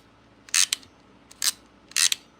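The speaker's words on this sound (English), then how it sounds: "What do you think about these connector crimping tool? The ratcheting one." A large ratcheting connector crimping tool being handled, giving three sharp metallic clicking bursts spaced about a second apart, each a quick double click, close and clear with no talk.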